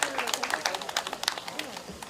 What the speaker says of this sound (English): Please give him another round of applause once again.